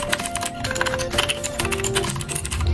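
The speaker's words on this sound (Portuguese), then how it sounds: "E o teclado faz esse barulho aqui, ó." Clicky typing on a Redragon Kumara mechanical keyboard fitted with blue switches, a dense, steady patter of close keystrokes running through the whole stretch with no talking.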